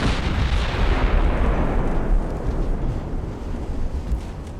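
Heavy naval gunfire aimed at destroyers in a dreadnought-era battleship game, a loud continuous roar of cannon blasts and rumbling booms that slowly fades.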